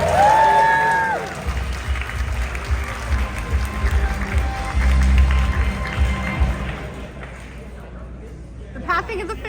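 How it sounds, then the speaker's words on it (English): A convention game-show audience claps and cheers for a contestant while people talk nearby. Brief tonal sounds come first, then crowd noise swells, rises again mid-way and tails off into scattered noise. "Ladies and gentlemen, round of applause once again for Royal."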